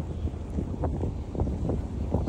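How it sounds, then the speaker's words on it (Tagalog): Strong wind buffets the microphone in rough, pulsing gusts, a loud continuous rumble with no voices. "Lakas ng hangin."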